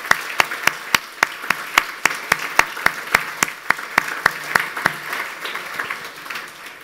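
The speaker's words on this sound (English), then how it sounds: "let's have another round of applause for the 150 people who help you make this possible." Audience applause at an opening speech, heard as a rapid train of sharp, evenly spaced claps that thins and fades into a softer, sustained patter near the end.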